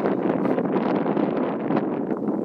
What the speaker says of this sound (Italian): si è alzato il vento.